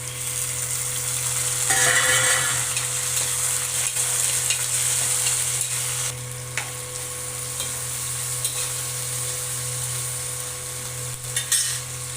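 Tomatoes tossed into lightly fried onions for a small brinjal curry sizzle steadily in a hot pan, with a brief louder burst and occasional scraping stirs nearby.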